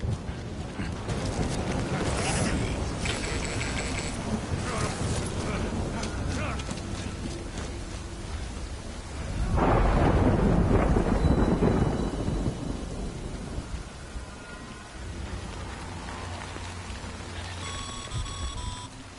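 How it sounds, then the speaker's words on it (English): In Death Stranding, heavy rain pours steadily while a deep thunder rumble swells midway and fades, with faint electronic tones layered over the storm. "Good thing it was raining."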